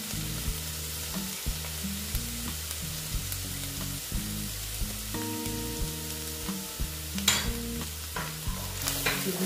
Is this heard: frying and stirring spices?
yes